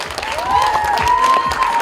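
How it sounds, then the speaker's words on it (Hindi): An audience claps loudly and steadily for a film director at a Border 2 event, a dense wash of applause with a faint tone sweeping through it. "जोरदार ताली होनी चाहिए"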